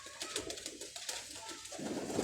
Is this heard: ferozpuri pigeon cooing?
yes